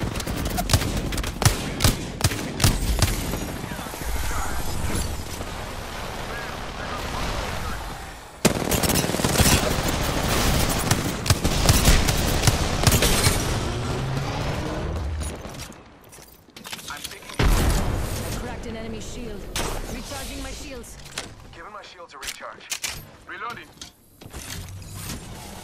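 Rapid rifle fire in the battle-royale game Apex Legends crackles in dense bursts through a busy firefight, mixed with game effects, and a player talks over much of it.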